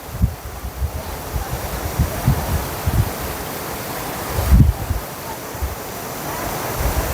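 Water of the Jhadko river flowing near Sukhpar, Bhuj, in Kutch: a steady, broad rushing wash with low gusty rumbles throughout, close and moderately loud, with no clear speech over it.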